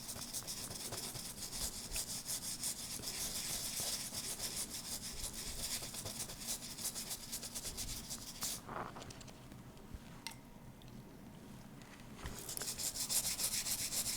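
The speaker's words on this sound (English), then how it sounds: "I am scrubbing out the background, which is a little bit different than scrubbing out the foreground" A brush scrubs the background of a photopolymer stamp plate, a continuous close, hissy rubbing with a fast back-and-forth texture that eases off midway and then picks up again.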